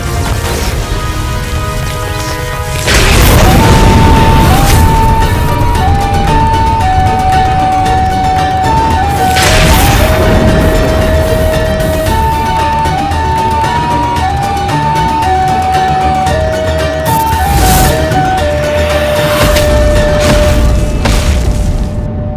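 Explosion sound effects, several booming, crashing bursts at intervals layered over a loud dramatic musical score with a bright melodic line.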